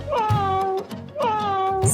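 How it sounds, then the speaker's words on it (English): A domestic cat meows twice in clear succession, each call a drawn-out, tonal mew, close and fairly loud, with no talk over it. "This is cat."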